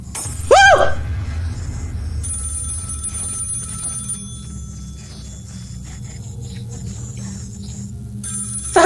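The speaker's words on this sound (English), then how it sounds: "Phone ringing." Telephone ringing in a horror video game, a bright electronic ringtone sounding near the start and again at the end, over a low droning ambient background with a sharp shatter-like hit, fairly loud and close.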